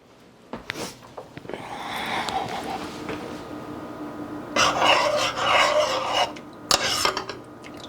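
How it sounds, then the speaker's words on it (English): French dip meat stirred in a pan, with rasping scrapes of a utensil against the pan in uneven bursts, the busiest scraping toward the end, close and fairly loud. "let me give that all a stir"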